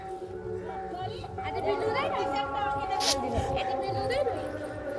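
A dog whimpers and yelps in short, high bursts close by, partly buried under children's excited chatter and talk throughout.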